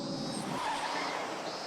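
A car engine from the PS2 game Higurashi: Miotsukushi Matsuri rises and cuts off in a short burst, a brief whooshing roar with a squealing edge, moderately loud and heard alone.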